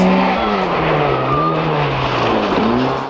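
The rotary-powered Mazda 787B race car's engine gives a loud, continuous, high-pitched wail as the car passes close by, with the pitch sliding as it changes speed.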